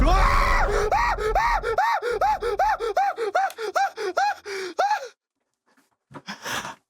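Heavy, rhythmic gasping breaths, a quick series of loud panting inhales and exhales close to the microphone, then silence and a brief final breath.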